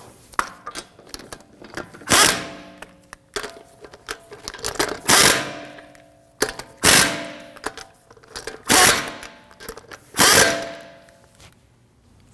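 Power tool snugging down bolts on a 2016-2022 Honda Pilot 3.5L during AC condenser and receiver drier replacement, firing in short loud bursts about every one and a half seconds amid clicks and handling noise.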